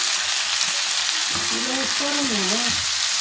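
Grated tomatoes are stirred into onions frying in a pan, giving a steady broadband sizzle throughout, with a faint voice-like tonal murmur rising briefly partway through.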